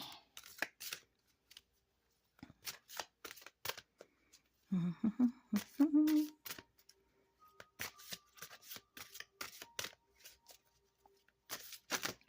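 Manifestation cards shuffled by hand in quick riffling bursts, crisp papery flutters repeating with short pauses between, close and clear, with a brief low murmur of a voice midway.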